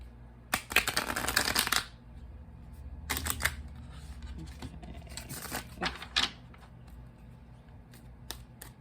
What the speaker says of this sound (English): I'm going to be pulling a card for each row from the Spirit Animal Oracle deck.